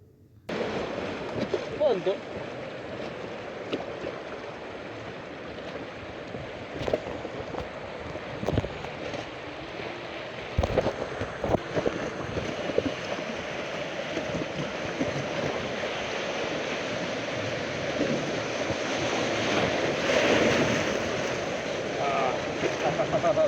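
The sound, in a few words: water splashing on a tube ride at a water park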